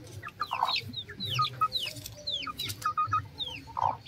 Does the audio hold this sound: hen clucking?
yes